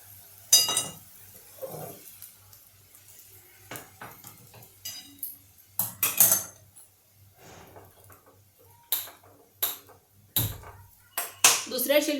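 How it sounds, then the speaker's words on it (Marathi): Metal rice pot shifted onto another gas stove burner in a home kitchen, with a series of sharp clinks and clanks of metal against the grate, spread out and moderately close. "आता हा तांदूळ मी दुसऱ्या शेगडीवर ट्रान्सफर करते"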